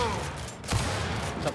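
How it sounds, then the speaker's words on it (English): Gunfire from the video game Gears 5, a short burst of a few sharp shots over dense game noise and background chatter from players. "Couple shots."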